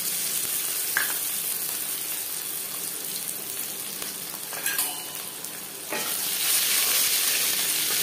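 Garlic and black cumin fry in hot oil for Ilish fish head with kochu shak, a steady close sizzle with soft stirring scrapes, swelling louder when the garlic goes in near the end, no voices.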